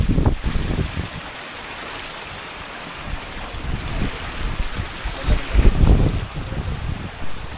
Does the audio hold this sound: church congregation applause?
no